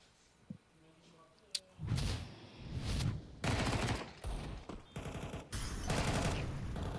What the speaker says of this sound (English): Good shooting from Kerrigan